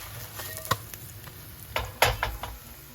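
Potato pancake frying in a pan makes a faint, soft sizzle, with a few sharp clicks and scraping taps from a utensil or pan scattered throughout.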